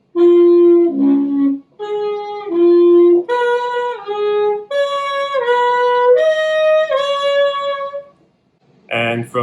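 Saxophone overtone series played in thirds: a sequence of clear, sustained harmonic-rich tones stepping upward in paired intervals, loud and close, ending with a brief burst of noisier notes.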